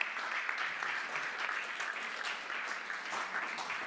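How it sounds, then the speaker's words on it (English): Audience applause for a councillor joining the stage at an electric vehicle summit, a dense, steady wash of many hands clapping that holds evenly throughout without any talk. "And a big round of applause,"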